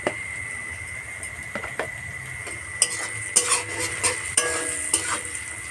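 Onions frying in a pan with cumin and turmeric: a soft steady sizzle beneath repeated clinks and scrapes of a spoon stirring against the metal pan, close and fairly quiet.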